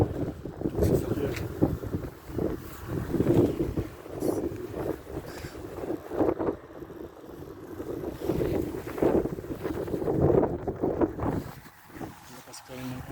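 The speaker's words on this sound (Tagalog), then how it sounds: "Lakas ka rin ng hangin." Strong gusts blow through a Toronto driveway after a January snowstorm, buffeting the microphone in uneven rushes while someone speaks intermittently over the roaring wind.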